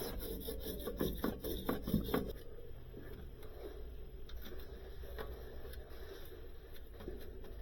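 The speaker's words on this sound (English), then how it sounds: "now clean all the tubing, the accumulator, and the new evaporator coil. Get them all ready for sweating." Copper refrigeration tubing is scrubbed clean before sweating during a Sub-Zero BI-48 freezer evaporator replacement. A rhythmic abrasive rubbing runs for about two seconds, then fades to a faint background hiss and occasional light scrapes.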